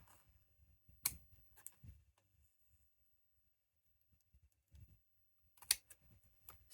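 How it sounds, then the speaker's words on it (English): Left-handed scissors snip paper in a few scattered, brief cuts with quiet gaps between them, close and soft, with no talking. "Still haven't gotten used to these left-handed scissors."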